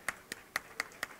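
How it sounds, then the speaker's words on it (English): Slow, evenly spaced handclaps, six crisp close claps in just over a second, faint and sparse, greeting a prize winner at a high tea party. "Big round of applause"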